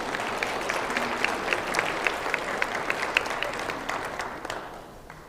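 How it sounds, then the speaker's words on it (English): A room of parish secretaries applauds one another, a dense, even wash of clapping that carries on steadily and then tapers off at the end. "You should give each other a round of applause"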